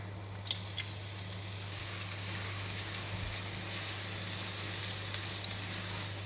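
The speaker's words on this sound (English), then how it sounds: "I'm putting in the chopped garlic" Chopped garlic sizzles steadily in hot cooking oil in a pan, a constant close frying hiss with a few faint pops and a low steady hum underneath.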